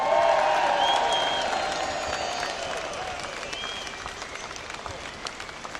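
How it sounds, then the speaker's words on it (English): A large outdoor crowd at a Unite the Kingdom rally in London breaks into loud, sustained applause and cheering for a girl's parents, swelling at first and then slowly fading with scattered claps. "Let's have a round of applause for her mum and dad as well."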